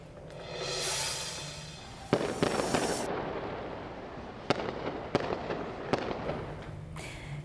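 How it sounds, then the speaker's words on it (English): Fireworks set off at night across a city district for an Emancipation Day celebration: a rising whistle, then a run of crackling bursts and several sharp, distant-sounding bangs spaced a second or so apart. "you can hear the fireworks going off in the district last night to celebrate Emancipation"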